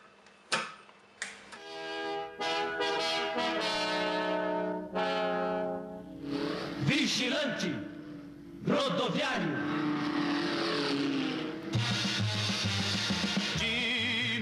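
A vintage Simca Vigilante advertising jingle plays as a melodic song with sustained tones, running close and fairly steady for most of the stretch with brief pauses between phrases.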